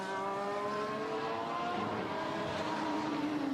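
Pierre Gasly's Formula 1 car screams past during third practice at the 2024 Bahrain Grand Prix, a loud continuous high engine whine that drops in pitch as it goes by, over steady circuit roar with no talk.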